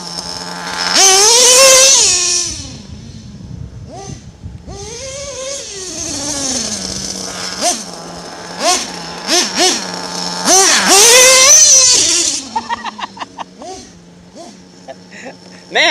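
A nitro-powered RC vehicle revs hard while riding wheelies, its high buzzing engine sweeping up and down in pitch through repeated throttle blips, then a quick stutter of short bursts, loud and close.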